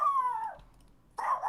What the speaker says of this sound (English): that's my granny's terrible dog